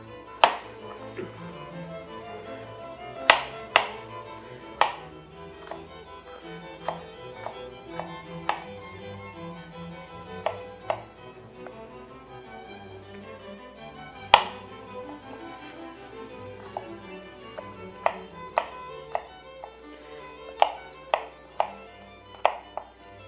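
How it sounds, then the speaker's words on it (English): Knife rough-chopping ingredients for a creamy pistachio and ricotta pesto on a board, with irregular sharp chops scattered across the clip, close and fairly quiet, and no talk. "I'm just gonna rough chop this"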